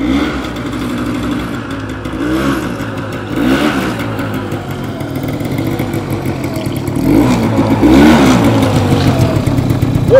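A moped motorcycle engine runs loud and close, revving in repeated rises and falls over a steady idling rumble, with no voices.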